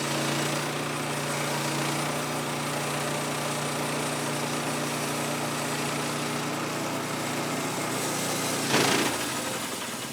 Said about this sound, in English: Let's put a new blade on the sawmill and see how she's cutting today.